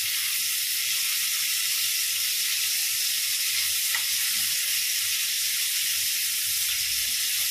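Pointed gourd (potol), cut into long strips, frying in hot oil in a pan, giving a steady, even sizzle that holds at close range for the whole stretch with no voices.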